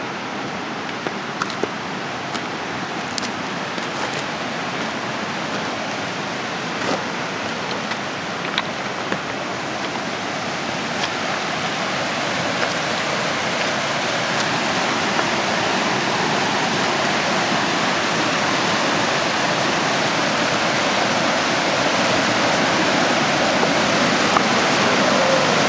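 An alpine mountain river beside a washed-out bridge rushes steadily, a close, dense, unbroken roar of flowing water lasting the whole stretch and growing slightly louder toward the end.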